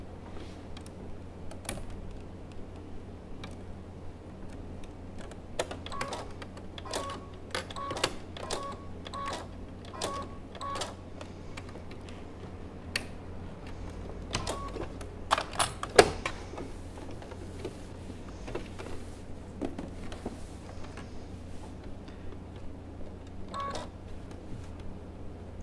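Computerized sewing machine stitching a piece of textile art, giving quiet, irregular mechanical ticks and clicks over a low steady hum, fairly close and modest in level.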